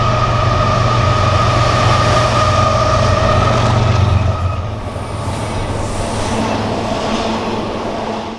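A CSX intermodal freight train rolls past at Selkirk terminal, a loud, steady rumble and clatter of railcars that holds strong for about four seconds before easing slightly and continuing to the end.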